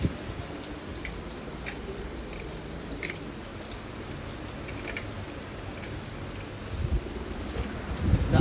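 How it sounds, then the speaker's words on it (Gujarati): Steady rainfall with a soft, continuous hiss and scattered drops, growing a little louder and rumbling toward the end; no talking. "વરસાદ સવારનો એકને એક ધારે ચાલુ છે."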